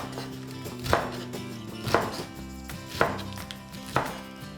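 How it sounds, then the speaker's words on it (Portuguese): A knife chops spinach leaves on a cutting board, four crisp, evenly spaced strikes about a second apart, close and clear with no talking. "eu vou cortar as folhas em pedaços menores"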